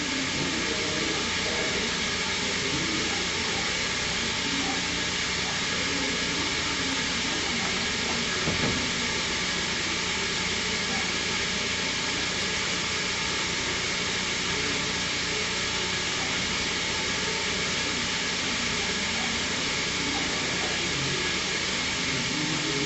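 A Semitool 270-S system runs through its cycle with a loud, steady, broadband hiss and whir that holds unchanged from start to finish, with no talk.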